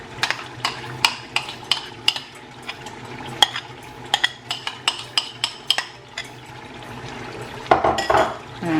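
A spoon stirs onion and tomato puree together in a cooking pot, scraping and knocking against the sides in a run of sharp clacks over a soft simmer, with a brief louder splash of movement near the end.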